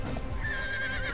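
A horse in the medieval combat video game War of the Roses gives a short neigh, its whinny rising over a busy low battle rumble and hoofbeats.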